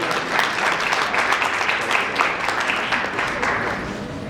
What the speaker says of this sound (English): round of applause and take care.